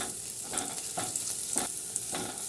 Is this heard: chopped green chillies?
yes